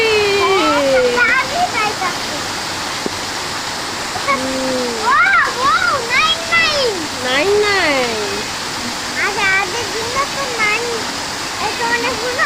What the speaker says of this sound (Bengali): বৃষ্টিও হচ্ছে পানি পড়তেছে